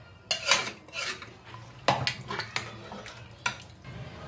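Paya (goat trotters) and water stirred inside a pressure cooker, giving loud metallic scrapes and clanks at an irregular pace, with sharp knocks of the spoon against the pot's sides and no voices.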